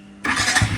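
A motorbike left unused for about a month starts up abruptly after a brief quiet moment, its engine catching and running on loudly, with no talk.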